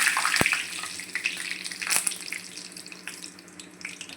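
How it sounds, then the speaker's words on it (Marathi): Curry leaves dropped into hot oil for Maharashtrian baingan bharta, a close, bright hissing sizzle with a couple of sharp pops, settling into steady crackling frying. "आता आधी मी कढीपत्ता घालते"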